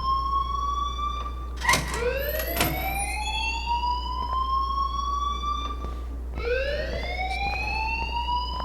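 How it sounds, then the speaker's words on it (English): In the video game Life Is Strange, a school alarm wails in repeated rising sweeps, loud and steady, with a couple of brief sharp clatters between cycles and no speech. "please turn off that alarm"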